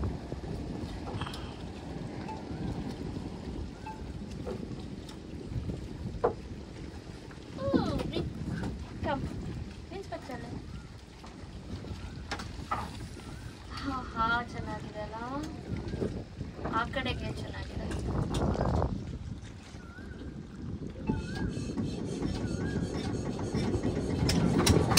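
A boat ride on the Sharavathi backwater near Honnavar, with a steady engine drone and gusting wind buffeting the microphone throughout, while people talk over it.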